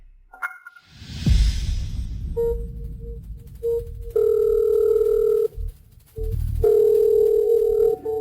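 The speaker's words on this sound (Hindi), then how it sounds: "मैं शियाओ हैंग को फोन करती हूँ" A telephone ringback tone sounds in long steady beeps with gaps between them, after a brief burst of noise and rustling at the start.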